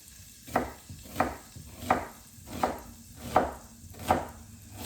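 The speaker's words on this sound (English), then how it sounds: "And you do want to cut them fairly thin." A knife slices food thinly on a cutting board for chicken fajita pasta, making seven evenly spaced, crisp chopping taps, each close and clear, at a steady rhythm of about one cut every 0.7 seconds, with no speech.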